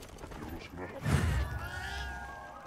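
A cat riding on a character's shoulder in Monster Hunter Wilds gives a drawn-out meow in the middle, with a person talking around it.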